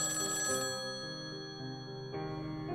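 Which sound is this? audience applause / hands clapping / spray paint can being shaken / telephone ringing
telephone ringing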